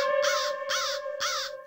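Three loud, clear crow caws sound in an even rhythm, each a harsh nasal call with a steady tonal whine running beneath them, close to the listener and with no talk.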